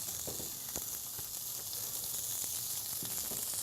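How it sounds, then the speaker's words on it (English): Raw meat sears in a hot pan with a steady, close sizzle and hiss, small crackles and pops scattered through it, no voices. "Just going to sear it on both sides, and then we'll finish it in the oven."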